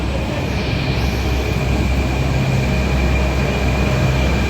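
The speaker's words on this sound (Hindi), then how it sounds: "मेट्रो आ गई, चलो दिखाते हैं।" Delhi metro train pulling into Kashmiri Gate station, a loud continuous rumbling roar with a steady whine, near and filling the whole stretch without talk.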